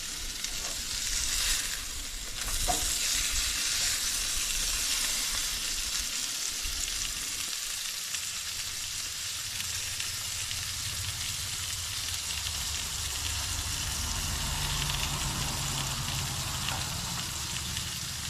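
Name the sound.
burgers sizzling in a pan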